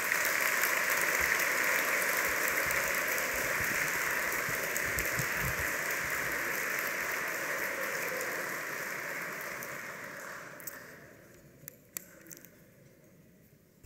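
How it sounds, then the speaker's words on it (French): Guests at a formal dinner of Assyro-Chaldean Eastern Christians give warm applause for a government minister, a dense rain-like wash of clapping that holds steady and then fades out, leaving a few scattered claps. "Je vous demande de l'applaudir chaleureusement"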